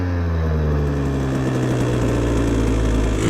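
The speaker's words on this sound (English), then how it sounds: "Idle settles down pretty nice." A KTM 150 XCW two-stroke dirt bike engine fitted with a Lectron carburetor idles in neutral, a close, loud, steady buzzing drone that holds level and settles throughout.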